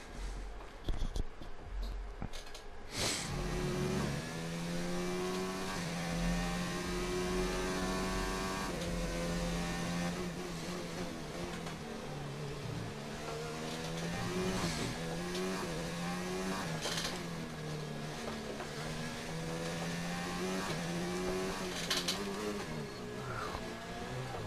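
A car racing in F1 2019 qualifying at the Australian Grand Prix on a dry track, engine droning loudly and steadily with rising and falling revs through gear changes, sustained close up for the whole stretch.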